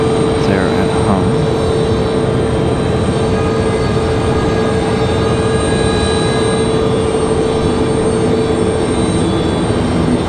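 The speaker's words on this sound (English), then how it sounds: "So Delta and Frontier on their way to the end of the runway." Delta and Frontier airliners taxiing toward the end of the runway at Raleigh-Durham International, with a steady loud jet engine drone and a high whine that barely change.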